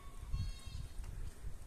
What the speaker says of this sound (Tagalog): Ang iingay ng mga tupa